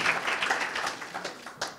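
An audience in a room claps briefly for attendees at an entrepreneurship talk, a short uneven patter of hands with a few sharper claps near the end.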